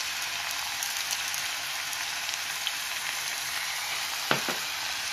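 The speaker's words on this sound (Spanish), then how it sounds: "Y ahora aquí lo vamos a ir salteando." Zucchini noodles sautéing in a pan, an even, rain-like hiss of frying held steady throughout, with a couple of faint clicks near the end.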